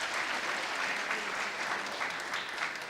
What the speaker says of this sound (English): Please give a round of applause once again to Mr.